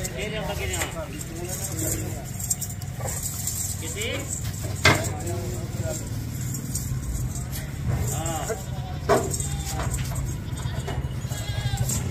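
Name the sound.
goats bleating while being loaded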